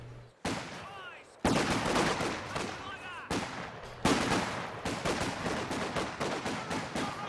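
Infantry support gun fire in a war video game comes in loud, sharp bursts of rapid shots with short gaps between volleys, punctuated by heavier blasts, close and dominant throughout.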